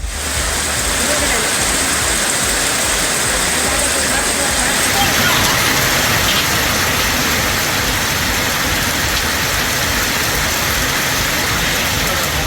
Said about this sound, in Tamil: திருவண்ணாமலை மாவட்டத்தில் நேற்றிரவு 2 மணி நேரம் பெய்த கனமழையால் வெப்பம் தணிந்து இதமான சூழல் உருவானது